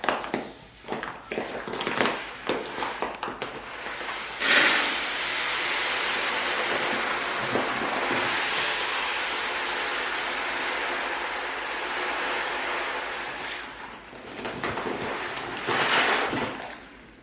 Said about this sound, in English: I'm now going to pour this grain right into this 2-gallon bucket.